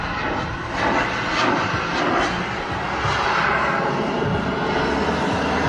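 A fighter jet hovers with its afterburner lit, making a loud, steady roar that holds without a break for several seconds.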